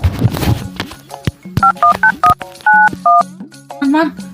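A phone being dialed to call a friend at a birthday party gathering, with a quick series of short electronic keypad beeps, loud and close. Voices talk before and around the tones.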